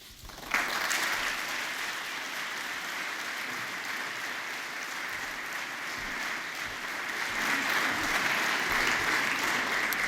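A conference audience at the Entretiens de Royaumont applauds after a speech: clapping starts abruptly, then holds a dense, even roar that swells slightly toward the end.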